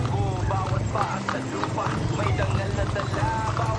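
Horse hooves clip-clop along at an anniversary parade held by a horse owners' association in Liliw, a repeated rhythmic clatter under loud music and voices.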